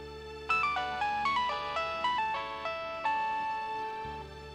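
A phone ringtone plays a bright melodic tune of rising and falling notes in repeated short phrases, loud and alone with no talk, in a domestic TV drama scene.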